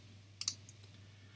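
Computer mouse clicks while selecting a message: a quick double click followed by a single click, crisp, close and fairly quiet over a faint steady hum.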